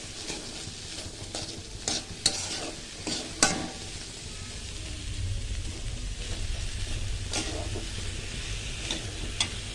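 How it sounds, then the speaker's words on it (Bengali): Fried rice with salt is stirred in a hot pan, giving a steady close sizzle broken by several sharp scraping clacks of the utensil, with no talking. "আবারও ভালো করে নাড়াচাড়া করে নেব।"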